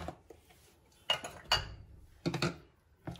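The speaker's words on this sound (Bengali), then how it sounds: "ডালটা একটু ভালো করে ফেটাতে হবে।" A spoon knocks and scrapes against a bowl while ground lentil paste is beaten with salt and pepper, in several sharp clinking bursts with short pauses between them.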